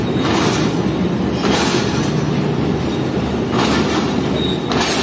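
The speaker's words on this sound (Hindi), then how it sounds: "आज ट्रेन हमारी यानी कि 40 डाउन जाफर एक्सप्रेस तकरीबन 5 मिनट बिफोर पहुंच रही है रोड़ी जंक्शन रेलवे स्टेशन पर।" The Jaffer Express rolls into Rohri Junction railway station in winter, a steady loud rumble of wheels and rail noise with recurring hissing, squealing bursts, heard from on board without talk.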